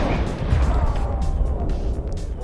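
Grenade blasts in the shooter game Borderlands roll out as a dense, continuous rumble of low booms and crackling debris, loud and sustained throughout.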